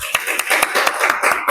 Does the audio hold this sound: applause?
yes